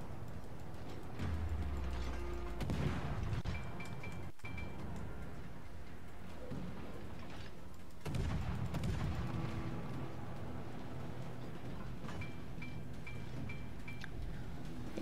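Naval gunfire from the warship game World of Warships: two heavy booming salvos, one near the start and one about midway, each trailing off into a low rolling rumble over a quiet mechanical background.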